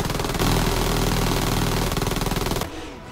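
Dense, continuous weapons fire from many units in the game Silica, loud and close, a rapid rattling barrage with an engine-like drone that cuts off sharply near the end.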